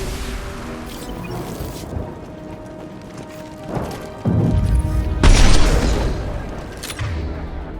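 An Impact Shot ability explosion from Mass Effect 2 booms loudly partway through, followed by a heavy rumbling burst among other combat noise.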